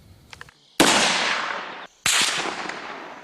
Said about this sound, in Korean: 어둠을 뚫고 울려 퍼진 총성